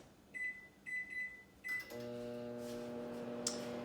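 A microwave used to cook fajitas in a multipurpose steamer gives three short high beeps at a steady rhythm, then starts up with a low, steady hum and whir, fairly quiet and close.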